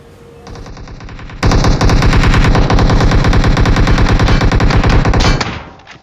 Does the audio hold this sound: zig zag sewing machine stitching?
no